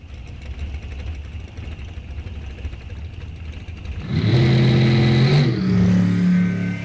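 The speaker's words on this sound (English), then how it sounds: "Mitchell's tranny brake does not hold, gets on the RPMs, rolls through the beams, gives the win to Keith Johnson" A drag racing car at an NHRA National Open event roars to life and launches, a loud rising engine blast cutting in over a low background rumble and holding strong as it pulls away down the strip.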